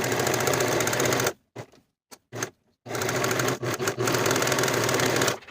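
A sewing machine running fast to finish the curved and straight edges of pants pocket pieces, a loud close mechanical whir that stops, gives a few short bursts, then runs steadily again, with no voices.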